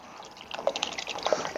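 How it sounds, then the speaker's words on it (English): Vinegar is poured into a pot of water for cooking yabbies, a soft, quiet stream of liquid splashing and trickling in short bursts. "I'll throw a heap of vinegar in."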